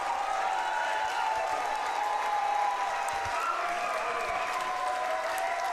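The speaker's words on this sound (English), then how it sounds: "Fans on their feet here at Labatt Park cheering on Gillies" Baseball fans on their feet at Labatt Park during an IBL playoff game cheer and applaud steadily, a dense sustained crowd roar that holds throughout.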